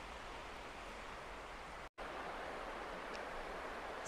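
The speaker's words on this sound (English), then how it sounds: "that's like a waterfall there" Small waterfall on a river in Knaresborough, Yorkshire: a steady, close, full rushing wash of falling water that continues unbroken apart from one brief cut near the middle.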